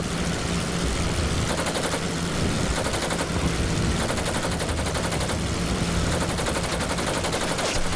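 Machine guns on WWI biplanes firing in the flight game Wings Over Flanders Fields, long continuous rattling bursts over a steady droning aircraft engine, loud and close throughout.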